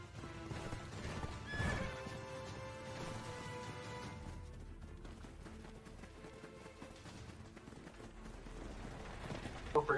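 In the Black Desert Online video game, a horse neighs loudly near the start, followed by steady galloping hoofbeats under game music, fairly quiet overall.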